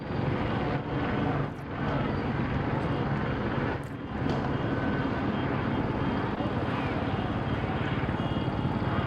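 Helicopters flying overhead above a crowd waving Mexican flags, a steady loud rotor and engine drone filling the scene throughout, with brief dips in level.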